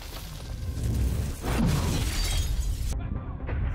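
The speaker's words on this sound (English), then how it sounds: "It's about to break the glass." Glass shatters in a Fallout TV episode, a loud crash followed by scattering debris and a second burst of breaking, with a sudden cut near the end.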